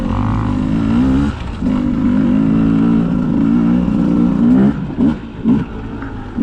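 A 2020 Beta 200 RR dirt bike ridden hard on a torn-up road, its two-stroke engine buzzing loud and close with rising and falling revs, then choppy bursts as the clutch is worked.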